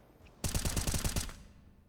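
A rapid burst of Counter-Strike gunfire, Desert Eagle shots among it, fires in a tight run of loud cracks for under a second, then fades into quiet.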